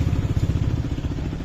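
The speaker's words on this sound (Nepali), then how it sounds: "फेरि अर्को राइडको लागि फेरि मेरो बाइक स्टार्ट भइसक्यो।" A motorcycle engine idling after being started on a rainy-season ride around Rimbik, a close, steady low putter with an even rapid rhythm.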